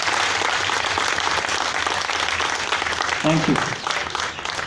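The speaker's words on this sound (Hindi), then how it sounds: "जोरदार तालियों की गड़गड़ाहट से सर का अभिनंदन करें" Sustained applause from an audience at a police-sponsored event in Delhi honoring children, steady clapping over a low hum, with a brief spoken word near the end.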